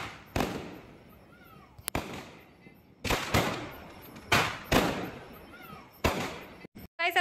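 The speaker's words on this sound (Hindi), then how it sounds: "लास्ट में स्काई बम लगा रहे हैं, और अभी ऊपर जाकर फूटने वाला है।" Sky shot fireworks bursting during Diwali celebrations, several sharp loud bangs at irregular intervals with crackling tails and faint whistles between them, voices murmuring underneath.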